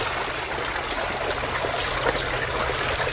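Water runs at a slow flow through the sluice of a high banker gold dredge, a steady, close hiss and trickle with faint gurgles and a low mechanical hum underneath, continuous and even throughout.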